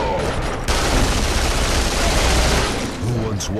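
Dense, continuous video-game gunfire from Duke Nukem fills the scene, with loud rapid shots running nearly nonstop, briefly dipping before resuming at full force.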